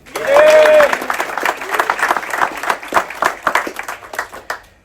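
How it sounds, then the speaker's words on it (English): Onboard audience clapping for a ship's cook during a crew introduction celebration, opening with a cheer and a loud burst of applause that tapers into scattered claps. "In your applause, Gede."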